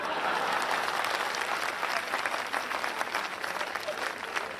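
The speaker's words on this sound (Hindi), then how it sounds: "और अब आपकी तालियां उठेंगी।" A live audience at a Hindi satirical talk breaks into sustained, even applause, a continuous wash of many hands clapping at moderate distance, without voices over it.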